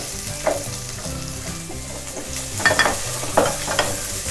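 Chopped onions and green chillies sautéing in a hot pan for a chutney, a steady close sizzle with a few sharper scrapes of stirring and no voices.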